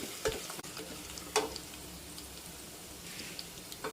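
A spoon stirs pongal ingredients in a hot pan, producing a few distinct scraping strokes over a soft, continuous frying sizzle, fairly quiet and close, with no talk.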